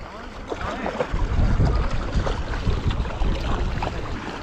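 Small single-engine motor boat running on the Umngot River at Dawki, near the Bangladesh border, a rough continuous engine drone mixed with water splash and wind buffeting, loud and close throughout.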